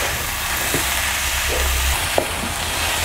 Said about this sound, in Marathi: आता हे छान असं मिक्स करून घेऊया.